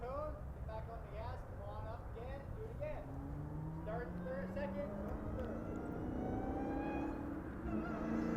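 A Formula 4 race car at a racing school drives the front straight, its supercharger whining in rising tones as the engine revs climb, with steady engine drone beneath and a voice talking over it.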